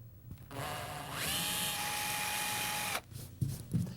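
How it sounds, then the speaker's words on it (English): A power drill spins up with a rising whine and bores through wallboard steadily for about two seconds, then stops, leaving faint handling noises; close by. "Select a drill bit that's the same diameter as the plastic anchor, and then go ahead and bore through the wall board"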